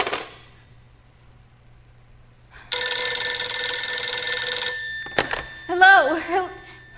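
An old telephone rings loudly in a steady burst for about two seconds within a radio drama scene, then a brief click and a warbling electronic line tone follow, with faint background hum throughout.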